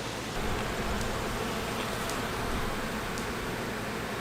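Honey bees buzzing densely inside a BeeCastle beehive, a steady close hum that fills the whole moment without pause.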